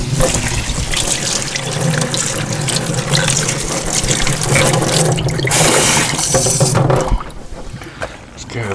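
Fresh asparagus spears rinsed under a running kitchen tap, a steady loud splash of water into a sink that continues for several seconds before dropping off, with a person talking over it.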